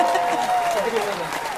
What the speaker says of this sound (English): I'll give you another round of applause there, ladies.